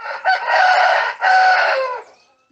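A rooster crows loudly and close by, two long strained phrases with a short break between them, fading at the end with no other sound.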